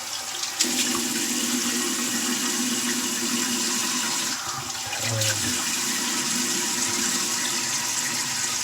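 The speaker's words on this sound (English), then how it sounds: "just water to wet the face" Water runs from a tap to wet the face before shaving with a PILS razor. The flow is loud and continuous and briefly breaks off near the middle before resuming.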